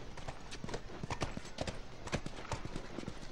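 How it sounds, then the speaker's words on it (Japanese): Horse hooves clip-clopping in The Last of Us Part II, a steady close rhythm of sharp hoof strikes on hard ground, loud and continuous throughout. "馬の足音結構響いてるから"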